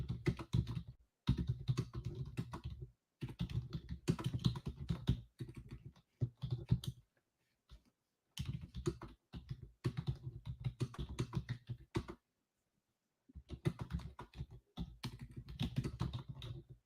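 Bursts of fast typing on a computer keyboard at a day-trading desk, close-up clicky keystrokes in runs separated by short silent pauses, fairly quiet throughout.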